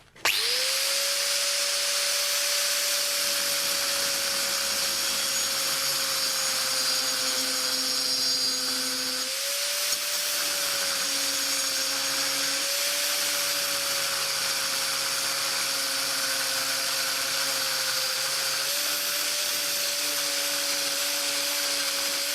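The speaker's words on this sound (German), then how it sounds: "Zum Thema seitlich fräsen, das werden wir jetzt probieren." A drill bit milling sideways through ceramic tile: a steady, high-pitched motor whine with grinding noise that runs continuously, pitch dipping briefly around the middle and again near the end.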